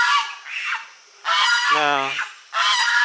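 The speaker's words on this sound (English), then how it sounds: "Those are our geese in the background." Geese honk loudly in a few bursts of rapid, raspy calls, with short gaps between them. A voice speaks a single brief word.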